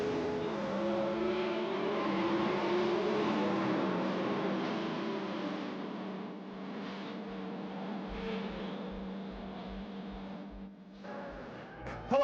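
Drag racing cars roar at the 1984 NHRA Winternationals in Pomona, California, a steady, dense engine rumble that holds for the whole stretch with no voices and briefly dips near the end.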